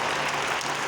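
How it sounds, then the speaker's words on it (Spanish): A brief burst of audience applause at a public event, dense and steady clapping from a crowd lasting about a second, loud and continuous. "Un fuerte aplauso, por favor"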